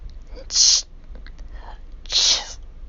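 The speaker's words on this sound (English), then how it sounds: "he doubled over with a couple of near inaudible sneezes" Two short, breathy sneezes about a second and a half apart, each a sharp hissing burst with soft, quiet sounds between them.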